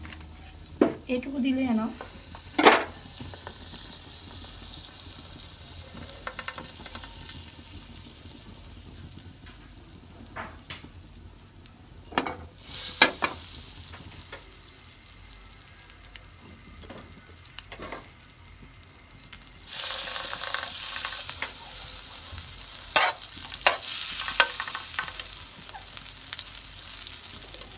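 Butter sizzling in hot oil in a pan while bread is toasted for a peanut butter sandwich, a steady frying hiss with several sharp stir and clatter transients, growing louder in the second half, with brief talk early on.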